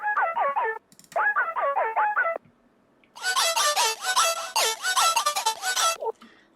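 Electronic dance music lead synth with heavy bit crushing in a second drop, a bright, gritty, stuttering melodic line in quick rhythmic bursts, a short phrase, a pause, then a longer, denser and brighter run over hi-hats.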